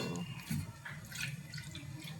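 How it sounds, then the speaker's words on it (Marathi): Water poured into a pan of frying toor dal: a steady close splashing and trickling pour that runs throughout, with faint drips. "हे याच्यामध्ये पाणी टाकलं गेलं"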